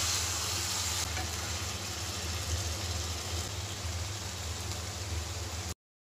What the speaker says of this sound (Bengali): মশলাটা একদম ভাজা করে লাল করে নিতে হবে পেঁয়াজটা